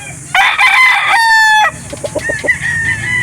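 Game-farm roosters at a poultry market in Calauan, Laguna crow loudly and close, a long drawn-out cock-a-doodle-doo followed by a run of short clucks, with other birds calling faintly in the background.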